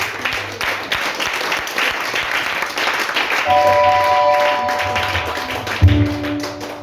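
A church congregation applauds in a sustained burst of many hands clapping, fairly loud and close, with tones from a keyboard or organ joining partway through.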